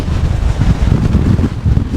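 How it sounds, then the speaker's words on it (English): Strong coastal wind at the Lizard near the lighthouse buffeting the microphone, a loud, continuous low rumble with gusty surges throughout, no voices. "man, that's windy."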